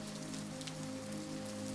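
Steady soft rainfall strums continuously beyond a window over a canal with a stone wharf, an unbroken gentle hiss of drops with no talking.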